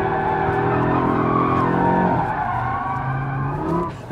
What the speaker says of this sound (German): das Getriebe ist in manuell zweiter Gang und wir gucken mal, ob wir das Auto hier schön angependelt bekommen